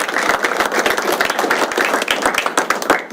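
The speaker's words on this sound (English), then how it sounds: "let's give her a round of applause" A crowd at a board meeting applauds steadily, many hands clapping in a dense, continuous patter that holds at an even level throughout.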